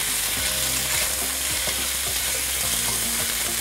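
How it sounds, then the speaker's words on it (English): Ground lamb fries in olive oil in a pan while two spatulas break it apart. A constant crackling sizzle runs under repeated scraping and clacking of the utensils against the pan. "we're going to place the lamb in the pan. And you want to break it up."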